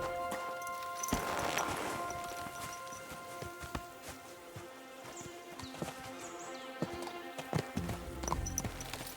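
Horse hooves clip-clopping in Kingdom Come Deliverance 2, steady rhythmic hoofbeats of a horse at a walk, fairly quiet and close, with a brief louder rustle early on.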